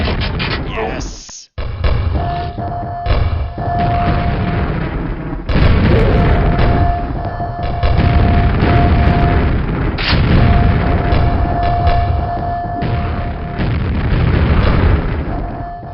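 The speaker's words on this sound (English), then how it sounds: "Grenade launcher." Grenade launcher blasts in a shooter video game, loud dense booms and bursts rolling continuously under game sound, with one abrupt cutout and several sharp onsets.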